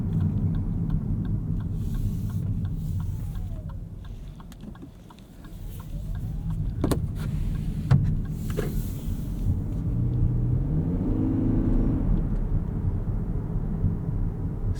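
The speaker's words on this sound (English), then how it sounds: "Still pretty good acceleration off the line there." A 2025 Lexus UX 300h F Sport hybrid accelerates off the line, heard from inside the cabin as a steady low rumble of engine and road noise. It dips briefly, then builds again with faint clicks.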